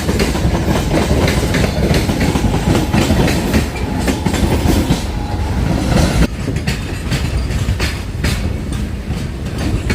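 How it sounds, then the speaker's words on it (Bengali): A Ranaghat–Bangaon local train rumbles loudly and steadily with rhythmic wheel clatter on the rails as it leaves Ranaghat station, a continuous heavy roar heard from inside a carriage. "আমাদের ট্রেন ছেড়ে দিল রানাঘাট রেল স্টেশনের চার নম্বর প্ল্যাটফর্ম থেকে"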